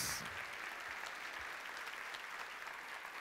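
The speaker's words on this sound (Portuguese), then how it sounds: "Vamos aplaudir bem forte" A church congregation applauds during a sermon, a dense, even wash of clapping that runs steadily for about three seconds at a fairly low, distant level.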